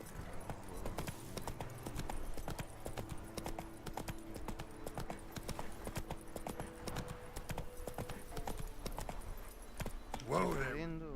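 Roach, Geralt's horse in the video game The Witcher 3, trots along in a steady clip-clop of hoofbeats over a game soundtrack, with a short rising whinny near the end.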